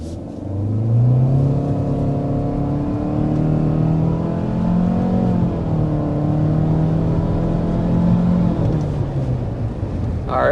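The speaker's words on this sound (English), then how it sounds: "so let's start with a hard acceleration." A 2026 Mitsubishi Outlander with its all-new engine accelerating hard to 60 mph, heard from inside the cabin as a loud, steady engine drone that rises in pitch through several gear shifts with no talk.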